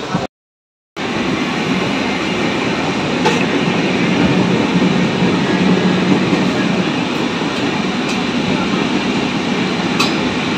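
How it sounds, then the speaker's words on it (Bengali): A moving passenger train on the Kolkata to Shantiniketan route gives a continuous loud rumble from inside the carriage, with a brief dropout near the start and occasional sharp clicks from the wheels over the rails. "ট্রেন ভালো পিক আপে চলছে"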